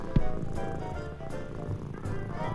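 A cat purrs close by in a snowcat shop, a low continuous rumbling purr with a steady pulsing rhythm, soft and alone with no talk.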